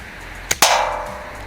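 A Target Mad Max Contender break-top airsoft pistol fires one sharp snap, followed a moment later by a second louder crack that rings briefly, heard close and clear with no talking.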